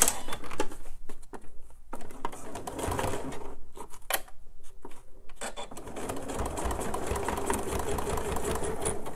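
A sewing machine stitches a purse seam with uneven, stop-start bursts at first, then settles into a steadier continuous whir, close up and moderately loud.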